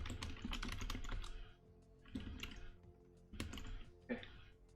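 Fingers type on a computer keyboard in quick bursts of soft clicking keystrokes, with pauses between runs, heard close and fairly quiet over a low steady hum.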